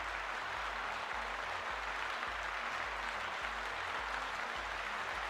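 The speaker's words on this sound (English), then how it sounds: "Let's give Storm Bully a big round of applause." Studio audience applause rises as a steady, dense wash of clapping that holds evenly throughout without any voices on top.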